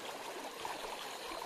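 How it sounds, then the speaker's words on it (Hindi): River water streams steadily through the forest of Rajaji National Park, a continuous soft rushing wash heard close by at low level, with no voices over it. "ये देखिए नदी में पानी चल रहा है"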